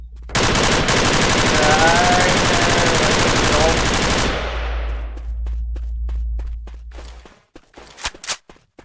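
Video game gunfire: a loud, unbroken automatic burst rattles for about four seconds, then a lingering rumble with faint clicks and a few sharp single shots near the end.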